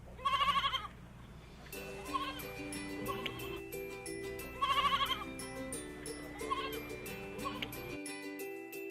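Goat bleating in a children's farm-animal sound lesson: two loud wavering bleat bursts stand alone near the start and middle, with a light melodic music bed running beneath.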